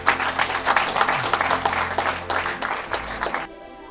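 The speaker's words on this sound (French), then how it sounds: "Acclamez le Seigneur" Church congregation applauding during a deliverance service, lively rhythmic clapping with crowd noise, fairly loud and continuous, then dropping away sharply near the end.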